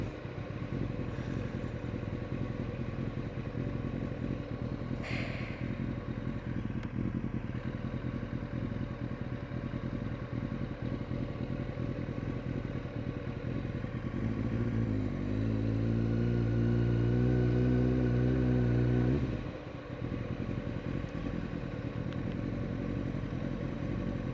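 A Kawasaki ZX9R motorcycle runs through town streets on a hot day, its engine droning steadily and close, with a louder revving rise near the end before easing back, amid faint traffic ambience.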